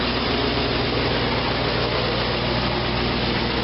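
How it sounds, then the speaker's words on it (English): A 1957 GMC Wayne bus with an Oldsmobile engine and dual exhaust idles steadily, a loud, continuous low rumble with a fast, even exhaust pulse and no voices over it. "here's the engine running."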